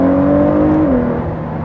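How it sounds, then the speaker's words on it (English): An American GT car engine revs hard close up, a loud sustained mechanical whine that holds steady, then drops in pitch as the revs fall away. "You do have to really kind of bring out the revs to get the best sound from it."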